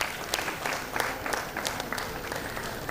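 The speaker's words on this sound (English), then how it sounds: "A big round of applause for Srinivas R." A crowd at a university convocation ceremony claps steadily, a dense patter of many hands applauding throughout.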